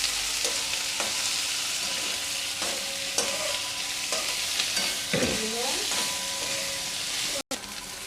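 Onions for chicken curry sizzle steadily in a pan while a utensil stirs and scrapes at intervals, close up and without talk.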